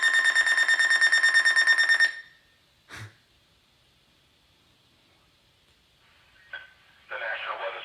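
Emergency Alert System weekly test tone, a loud steady dual-pitch alarm for about two seconds, followed by short data-burst chirps and static after a pause.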